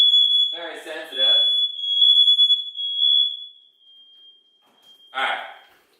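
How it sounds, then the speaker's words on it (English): A sensitive home smoke detector goes off while chicken bakes, a sharp continuous high-pitched beep sounding close for several seconds, with a person talking over its start and again after it stops. "That's my fire alarm. Very sensitive."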